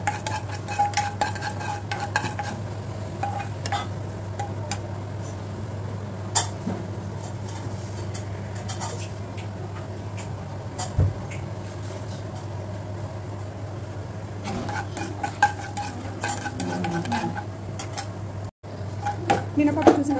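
Urad dal tempering in a little oil, stirred in a pan during South Indian brunch cooking for medu vada and sambar, with scraping and clinking of a utensil over a steady low hum, continuous and moderately near, with brief talk in places.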